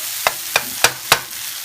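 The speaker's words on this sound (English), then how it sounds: "I'm going to spoon these out straight into the gumbo pot" Lightly browned okra being spooned from a frying pan into a simmering gumbo pot: four sharp metal-spoon clinks at even intervals over a steady low sizzle, close up with no talking.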